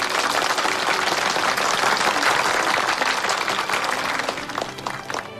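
A crowd applauds to welcome a water-conservancy expert arriving for a canal-building project, a dense, loud, sustained burst of many hands clapping that carries on evenly before easing slightly at the end, with no voices over it.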